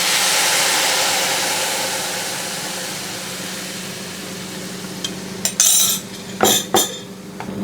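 Vegetable broth poured into a pot of parsnip already frying, giving a steady loud hiss that slowly fades, then a few sharp clinks of a utensil against the pot near the end.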